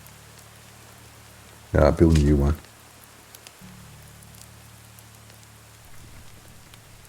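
Steady rain falls in Medieval Dynasty, a soft continuous patter that runs throughout, broken briefly by a person speaking.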